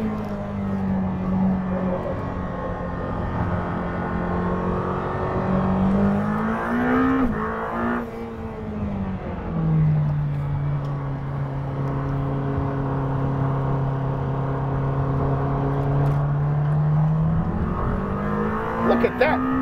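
Lamborghini Temerario engine revving under acceleration at low revs, a steady droning tone that climbs, dips around the middle, then holds high and loud throughout, with a rise near the end.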